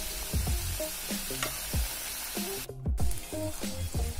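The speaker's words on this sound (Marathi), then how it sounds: "तर याप्रमाणे बाकीचे पण मी ते फ्राय करून घेतो." Cheese bread rolls frying in hot oil make a steady close sizzle, while repeated tonal beeps and chirps sound over it throughout.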